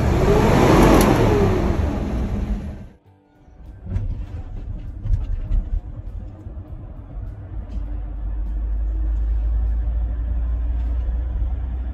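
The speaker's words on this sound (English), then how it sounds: "This truck has an issue with water getting into the junction box, which causes some weird issues, like the throttle going wide open when put in park." Truck engine with a water-damaged junction box, idling in park with the throttle stuck wide open, roars at high revs after a brief cut, then holds a loud, steady drone.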